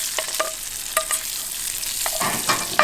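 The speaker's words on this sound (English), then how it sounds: "And now we are ready to add in our shrimp." Shrimp fry in melted fat on a very hot stove, giving a steady close sizzle with occasional spatters, metallic clicks and scraping stirs of a utensil in the pan.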